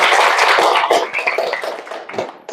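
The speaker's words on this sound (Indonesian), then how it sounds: "Yuk tepuk tangan buat Ria dulu." Classroom applause for a student named Ria after she answers well, a burst of many hands clapping densely at first, then thinning and fading over a couple of seconds.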